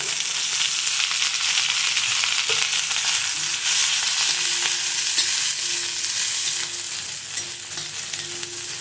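Onion sautéing on a tawa over a medium gas flame with a little oil, cooking for a mutton curry: a constant close sizzle with faint stirring scrapes, no voices.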